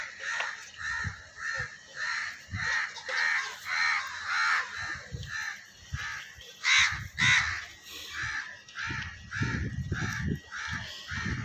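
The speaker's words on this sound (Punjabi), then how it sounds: "ਕਾਂ ਇਹਦੇ ਨਾਲ ਲੜਦੇ ਰਹਿਣ" Several crows caw repeatedly and harshly while fighting an eagle, the calls overlapping in an agitated outdoor scene, with some rustling and thumps between the caws.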